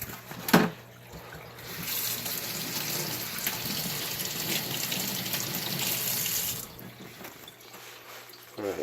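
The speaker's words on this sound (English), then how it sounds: "I'm just trying to drain this filter a little bit for a second." Water pours from an aquaponics filter into a kitchen sink, a steady splashing stream running for several seconds after a brief clatter, then tapering off as the flow stops.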